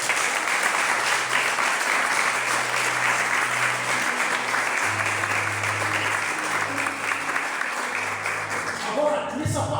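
A church congregation applauds loudly and steadily for nearly ten seconds after a sermon, with a dense, continuous wash of clapping. Low organ or keyboard tones run underneath, and the applause thins briefly at the very end.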